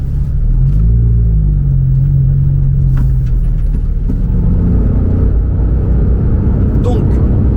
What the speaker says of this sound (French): rendre cette voiture, comme je la conduis là, sur petite route